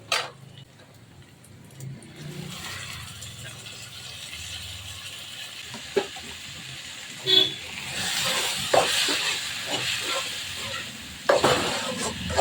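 Tomatoes and onions sizzle in hot oil with a soft steady crackle, broken by occasional stirring clinks and scrapes of a spoon against the pan.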